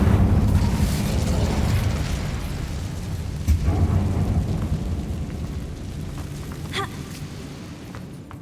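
Fiery spell explosions in Hogwarts Legacy inside an abandoned mine, a loud deep booming rumble that slowly fades, followed by a couple of sharp crackling bursts.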